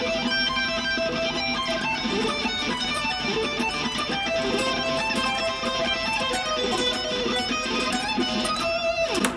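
Electric guitar plays fast sweep-picked arpeggios in a neoclassical style, a dense, continuous stream of bright notes that stays loud and even throughout.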